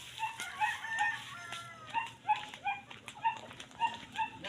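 Chickens clucking in a repeated, rhythmic series of short calls, moderately close, with a rooster crowing among them, and no talk over the sounds.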